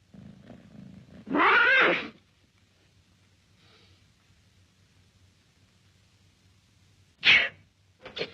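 A sharp, loud sneeze bursts out in an otherwise quiet room, followed by a long stretch of faint background hum and then another short, abrupt burst near the end.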